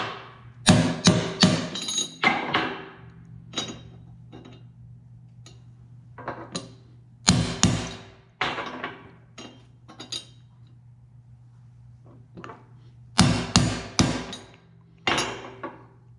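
A hammer strikes a bearing during assembly of a 1966 C2 Corvette differential, giving sharp metallic clinks in irregular clusters of two to four blows with pauses between them, close and fairly loud over a faint steady hum.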